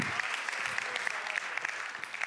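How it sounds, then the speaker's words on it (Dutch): Warm applause from a seated audience at an opening programme, a continuous patter of many hands clapping, moderately loud and even, with a few sharper individual claps standing out. "Mag ik alsjeblieft een heel warm applaus"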